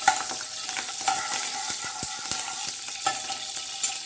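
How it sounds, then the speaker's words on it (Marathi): Curry leaves temper in hot oil, a dense bright sizzle running throughout while a utensil stirs the pan with scattered clicks and scrapes, close up with no voices. "तर हे बघा आता कढीपत्त्याचा मस्त तडका बसत आहे."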